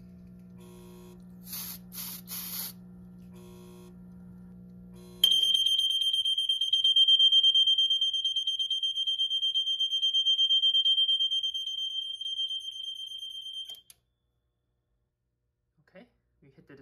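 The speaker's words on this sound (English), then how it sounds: "Now let's test the smoke detector." A Notifier SGL-2000 fire alarm panel's smoke detector alarm sounds a loud, steady high-pitched electronic tone continuously for several seconds, then cuts off abruptly, following a few short beeps at the start.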